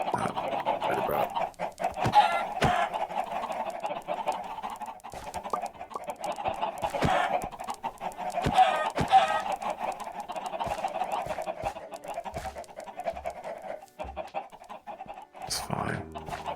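Chickens cluck and fuss repeatedly in a modded Minecraft world, a steady busy flock sound running throughout with sharper bursts, while a person talks over it.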